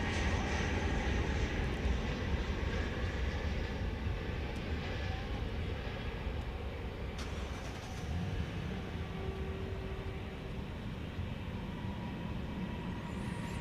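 A Boeing 737-800 airliner passes at DFW Airport, its engines a steady, broad roar that holds evenly near and loud before easing slightly as it moves along, with no talk over it.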